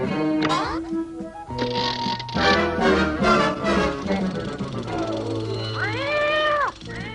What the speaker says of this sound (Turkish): Şimdi onu yakalamak için mekanik kediyi kullanacağız.